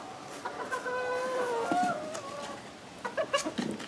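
Young chicks peep and cheep in a box, a series of high chirps with clucking calls close to the microphone in a quiet indoor space, bursts clustering in the middle and near the end.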